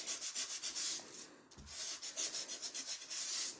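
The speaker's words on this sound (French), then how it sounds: "on ponce, donc ça fait des petites poussières de papier" Sheet of paper being sanded with sandpaper for a scrapbooking card, a soft, quiet, rhythmic rasping of quick back-and-forth strokes with a brief pause midway.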